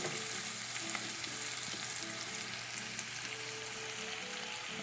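Bacon and vegetables frying in a pan with a faint, even sizzle under a low rhythmic hum, fairly quiet and steady, ending on a brief louder knock, with no talking.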